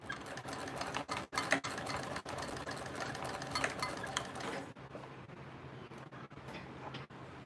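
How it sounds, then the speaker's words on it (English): Sewing machine running steadily while top stitching connectors at an eighth of an inch, a dense continuous mechanical whir with a few brief pauses, close and fairly loud. "So we're gonna do this to all of the connectors. The ones that we top stitch at 1/8 of an inch."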